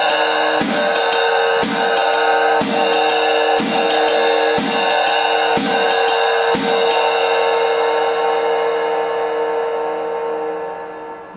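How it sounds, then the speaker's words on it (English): Steady ringing jazz hi-hat pattern, with regular accented strikes about every half second, continuing evenly then fading out near the end. "now replace it with the hi-hat"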